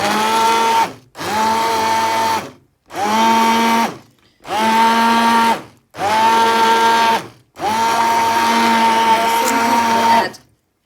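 A blender purees stinging nettle soup in six loud, close pulses of whirring motor, each a second or two long with brief silences between, the last burst running longest.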